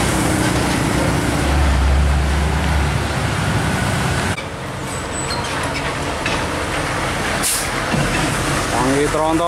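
A Hino tronton tanker truck hauling fresh milk rumbles past loudly, with a deep engine drone and road noise that eases after a few seconds, and a brief air-brake hiss near the end.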